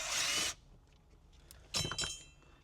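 A power screwdriver buzzes in two short bursts, taking out Phillips head screws behind the radio faceplate of an Infiniti G35/G37 sedan, with a quiet pause between the first whir and the second.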